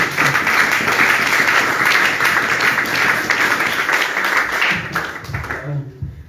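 Audience applause at a spiritual training session, a thick continuous burst of clapping with voices mixed in, fading out near the end as talk takes over.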